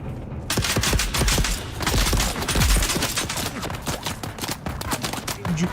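Gunfire in the video game Dune Awakening, dense rapid bursts of automatic shots and impacts firing almost continuously, loud and close, with brief voice fragments mixed in.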